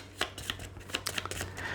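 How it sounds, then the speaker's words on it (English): A deck of Terraforming Mars cards is shuffled close by, a quick run of crisp riffling slaps and flicks with no talk. "Let's shuffle these around like this."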